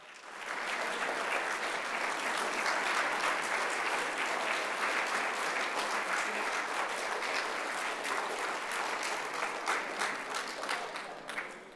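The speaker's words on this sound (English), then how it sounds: "if we could stand and give him a round of applause." Steady, dense applause from a standing audience honoring an army veteran at a Black Lives Matter Day afternoon session, sustained and even for about twelve seconds with no talk over it.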